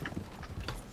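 Hooves of a galloping horse in Red Dead Redemption 2 clatter in quick, uneven clip-clop beats, close and moderately loud, for about a second.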